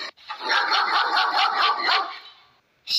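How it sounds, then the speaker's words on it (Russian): Close, loud dog barking in a quick run of repeated barks lasting about two seconds, then a short silence before another bark starts. "Ребята, это просто собака."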